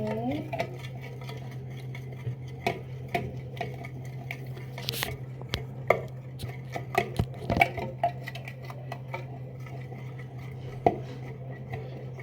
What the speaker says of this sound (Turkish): Bu yumurtayı bir karıştır bakalım